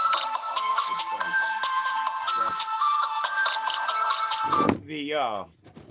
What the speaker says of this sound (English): sorry about that phone call come in